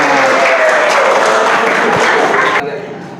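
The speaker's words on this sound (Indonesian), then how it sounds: "Betul sekali, tepuk tangan." Applause from a classroom of students during an Islamic religious education lesson, a dense steady patter of many hands filling the room at close range, then cutting off abruptly near the end.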